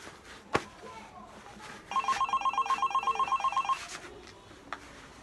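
A telephone rings with a rapid pulsing electronic trill for about two seconds, fairly faint, amid quiet background noise and a couple of sharp knocks.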